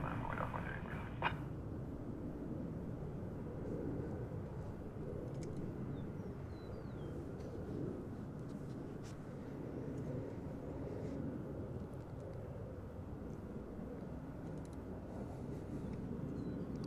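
An Envoy airliner starts its takeoff roll on runway 36 right at DFW Airport, heard as a steady, low, distant engine rumble that holds at an even level throughout, with a brief click near the start.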